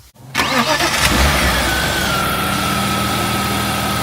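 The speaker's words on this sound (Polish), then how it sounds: "Może silnik uruchomię, posłuchacie jak sobie chodzi i zaczniemy odcinek." A rebuilt BMW M50B25 inline-six in a 325i E36 cranks briefly and catches, then settles into a steady, even idle heard close up with no voices.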